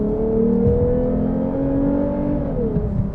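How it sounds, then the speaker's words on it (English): A Lexus IS350 F engine revs with a steady rising whine like a supercharger, loud and close, the tone climbing smoothly and then easing off at the end. "And it almost sounds like a supercharger whine."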